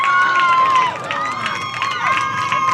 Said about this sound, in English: Gives the Southeast faithful something to cheer about